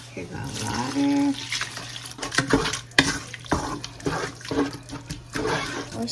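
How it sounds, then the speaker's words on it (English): Water pours from a tap into a cooking pot with bouillon for homemade gravy, an uneven splashing and running sound with short bursts and pauses amid kitchen clatter. "Here goes water."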